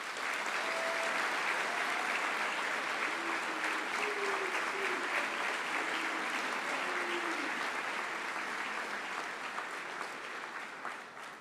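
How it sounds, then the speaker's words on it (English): A school assembly audience gives a long, even round of applause for senior boys, steady clapping that fills the hall for about eleven seconds, with a few faint voices beneath it as it gradually thins out. "Let's give them a round of applause."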